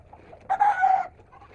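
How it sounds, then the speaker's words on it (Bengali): Tiger breed chickens in a farm coop, restless and thirsty in the morning, let out a single loud, close cackling call lasting about half a second, over quiet background clucks. "আর আমার মুরগিগুলো এখন পানি খাওয়ার জন্য ছটফট করছে, কারণ রাতে থেকে পানি খায় নাই।"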